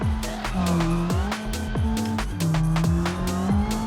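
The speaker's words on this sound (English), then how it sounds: "Wheel spin off the line." A modified Renault Twingo spins its wheels off the line in the BeamNG driving game. A loud, steady engine drone with rising and falling pitch and repeated tire chirps fills the whole stretch, close and without talk.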